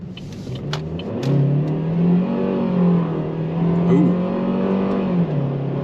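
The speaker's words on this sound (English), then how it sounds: "we'll go ahead and give it some throttle and see what kind of power it's got" A Buick Cascada convertible accelerates under throttle, its engine note climbing steadily, dipping briefly at a gear change, then pulling again, heard loud and close from inside the car with steady road noise and no talking.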